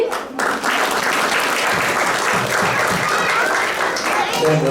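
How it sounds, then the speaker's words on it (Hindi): An audience claps steadily at a live Hindi stage comedy drama, a continuous, fairly loud wash of applause lasting several seconds, with voices mixed in. "चुपचाप सब बैठे बैठे ताली बजाते रहिए"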